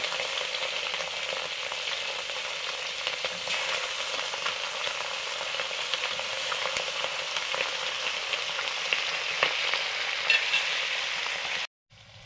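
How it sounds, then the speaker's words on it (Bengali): Fish frying in a pan, giving a dense, continuous crackling sizzle at an even level that cuts off abruptly just before the end. "মাছগুলো ভাজতে দিচ্ছি।"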